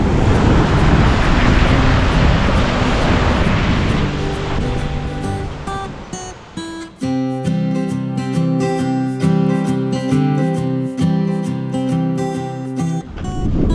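Loud, continuous roar of powerful rushing water in Iceland dominates at first, then a steady, bright musical tune takes over while the water fades underneath.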